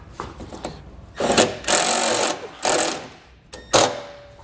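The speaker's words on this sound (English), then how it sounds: "We're going to be using a 3/8 or 10-inch socket / nut driver." A 3/8 or 10 mm nut driver drives self-tapping screws into a step bracket on a 2016 Ford Transit T250 cargo van, producing several short, loud bursts of whirring and grinding separated by brief pauses.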